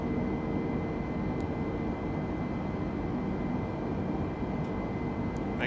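Steady, continuous broadband engine and airflow roar of an Airbus A320neo airliner cruising in flight between New York JFK and Chicago O'Hare in Microsoft Flight Simulator, with no talk over it.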